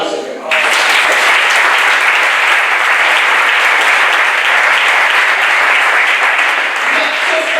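A church congregation applauds the Lord during a French-language sermon, steady dense clapping that starts abruptly and holds loud and even throughout, with voices mixed into the crowd noise.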